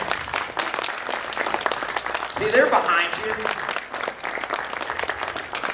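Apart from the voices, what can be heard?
audience clapping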